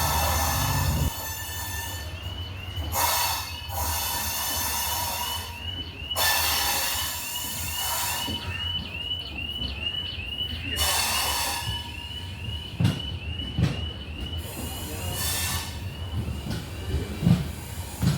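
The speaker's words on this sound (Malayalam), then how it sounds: "ട്രെയിൻ അങ്ങനെ ഷണ്ട് ചെയ്തുകൊണ്ട് പ്ലാറ്റ്ഫോം നമ്പർ സിക്സിലേക്ക് വരുന്നുണ്ട്" The Thiruvananthapuram North–Mysuru Express shunts slowly into platform six, with a steady rail rumble, a long thin wheel squeal and intermittent hissing bursts, and people talking at times.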